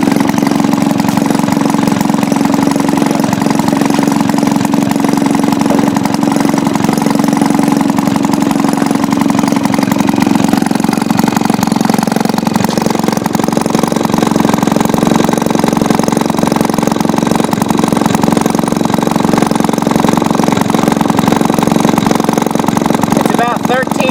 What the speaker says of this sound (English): I bet you if Mike rebuilt that, it would have started on the first kick.